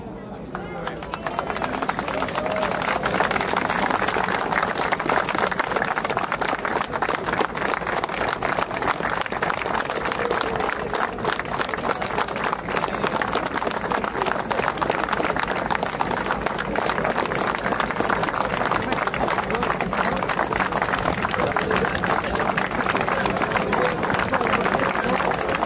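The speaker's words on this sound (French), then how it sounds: "c'est une minute d'applaudissement" Protesters at a union rally in Bordeaux hold a long, sustained round of applause, a dense, steady roar of many hands clapping with some voices and cheers mixed in, continuing unbroken for nearly half a minute.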